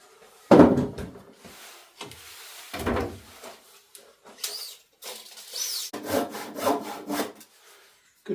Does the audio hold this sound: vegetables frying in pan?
no